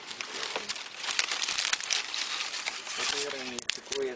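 Dry, papery fallen leaves on a trail passing from humid forest into dry woodland crinkle and crackle as they are handled up close, in a busy rustling texture with a person talking over it.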